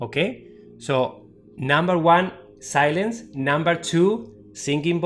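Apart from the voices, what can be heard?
No everyday noise stands out behind the speech.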